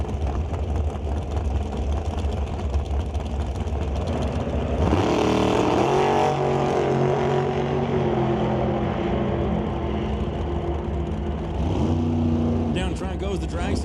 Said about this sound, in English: Goes the dragster